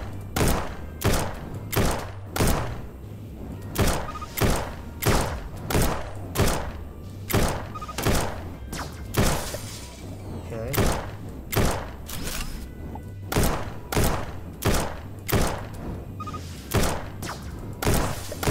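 Rapid gunfire from the Starbound video game, loud repeated shots in steady bursts alongside thudding impacts over a low game soundtrack, with no talking.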